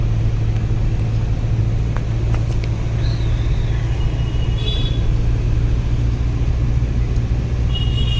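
A luggage-packed car cruising along an open road past Manthani on a trip to the Medaram jathara, heard from inside the cabin as a steady, loud low engine and tyre rumble with no talking.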